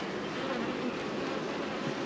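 Honey bees buzzing around an open hive during a weekly hive check, a continuous soft drone of many wings, faint and steady, with no voices over it.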